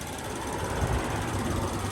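A used car's engine idles under an open bonnet, a steady close mechanical rumble with a fast rattling, knocking texture and no talk over it.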